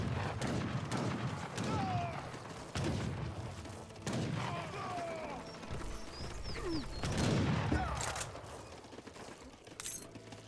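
Heavy cannons firing in the real-time strategy game Age of Empires 3, a series of booming blasts roughly every second or two mixed with clattering battle noise and a few chiming effects; a voice speaks faintly underneath.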